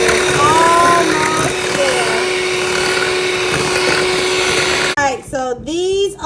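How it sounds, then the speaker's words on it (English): An electric whisk drones steadily while whipping cream toward stiff peaks, a loud continuous motor whine that cuts off near the end, followed by a voice talking. "I'm going to whisk this until it forms stiff peaks."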